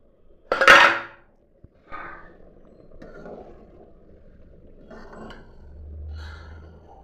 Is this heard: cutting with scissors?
no